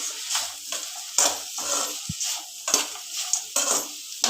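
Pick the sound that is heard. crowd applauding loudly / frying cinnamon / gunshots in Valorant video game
frying cinnamon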